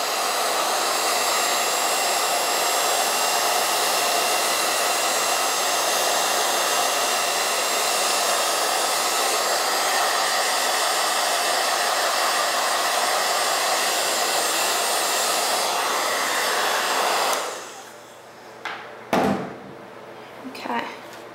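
A handheld hair dryer drying a boutique hair bow blows a loud, steady whooshing roar for about seventeen seconds, then switches off, leaving a few brief clicks and handling sounds.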